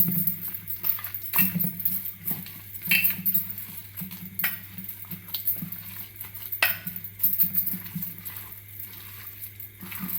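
Hands mixing makka vada batter with chopped onion in a bowl, producing irregular soft slaps, squelches and clinks of the dish, close and continuous.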